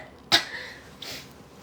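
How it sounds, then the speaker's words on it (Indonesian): A single sudden, explosive cough bursts out close and loud, then fades, followed by a softer breathy sound about a second later. "Kamu batuk."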